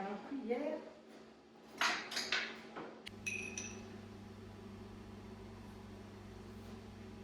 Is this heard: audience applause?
no